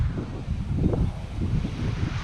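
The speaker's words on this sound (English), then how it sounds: "very, very windy because it's the coast" Steady buffeting coastal wind on a beach at Sandsend roars across the microphone in low rumbling gusts, continuous throughout with no voices.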